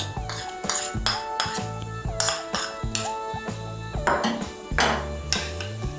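Chicken being mixed with tomato sauce and green chilli sauce in a bowl for chilli chicken, a spoon clinking repeatedly against the dish in uneven bursts, close and fairly loud with no talking.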